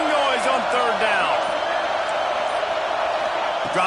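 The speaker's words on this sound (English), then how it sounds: "This dog crowd is off the leash, and they are coming after them, bringing noise on 3rd down" A roaring stadium crowd in a college football video game swells on third down. The dense, steady noise comes with a few sharp thuds and whistling sweeps mixed in.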